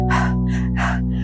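A woman imitates the rapid, breathy panting of someone struggling to breathe, a short burst of loud, close, gasping breaths with no words spoken.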